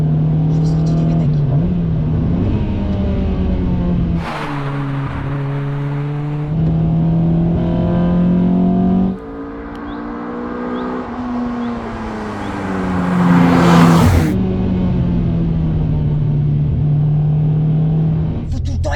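Honda Accord Type R four-cylinder engine revving hard through VTEC, a loud close rising and falling roar with gear changes around the middle, continuous from start to end with a voice talking over it.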